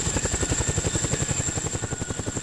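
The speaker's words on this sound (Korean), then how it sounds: "드디어 고공 강화를 위한 헬기 시누크가 착륙하고" A Chinook twin-rotor military helicopter lands for a marine special-forces high-altitude drop exercise, its rotor blades chopping in a steady, rapid, loud pulse with a constant turbine whine above.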